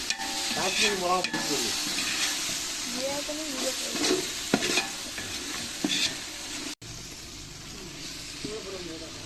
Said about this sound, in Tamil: இப்போ நல்லா கிண்டி வச்சுக்கணும்.